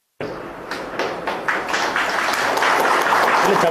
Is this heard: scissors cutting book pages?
no